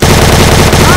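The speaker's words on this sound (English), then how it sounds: "Oh, I just got shot." Very loud, rapid automatic gunfire in a Minecraft video game, a dense rattling burst of shots filling the whole moment, distorted and close.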